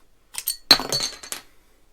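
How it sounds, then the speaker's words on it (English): Brooklyn Brewery Pulp Art IPA bottle opened with a cap pop and hiss, followed by bright glass clinks and rattles, close and alone over about a second. "Nice smoky bottle opening."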